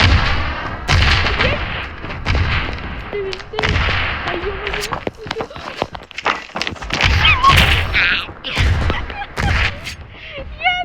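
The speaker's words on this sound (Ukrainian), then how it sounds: "я просто гранату закидаю" Grenade explosions and gunfire in the mobile shooter game Standoff crack and thud in irregular bursts, mixed with footsteps and game effects while a player talks over the action.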